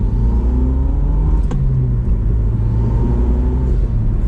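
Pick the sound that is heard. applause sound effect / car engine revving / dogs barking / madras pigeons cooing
car engine revving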